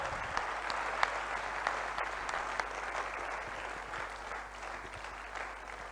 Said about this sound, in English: can we have a huge round of applause for this dynamic photographer from